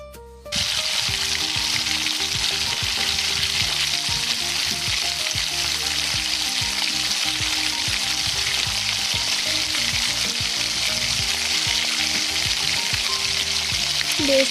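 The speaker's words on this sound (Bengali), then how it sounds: "এবার আমি কড়াইতে তেল দিয়ে বেরেস্তাগুলো ভেজে নেব।" Sliced onions for beresta fry in oil in a kadai for chicken biryani, giving a loud, steady sizzle that runs unbroken from just after the start to the end, with music playing quietly underneath.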